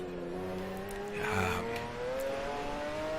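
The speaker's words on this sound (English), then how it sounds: "Hopefully you guys can still hear how amazing this car sounds." McLaren F1 GTR racing engine in the Assetto Corsa video game on the Nordschleife, a steady rising whine as the car accelerates through the gears, played fairly quietly with no talk.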